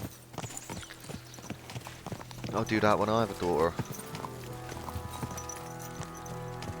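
Horses' hooves clip-clop in Kingdom Come Deliverance II, a steady rhythm of moderate hoofbeats running under close conversation, with a voice rising loudly over them midway.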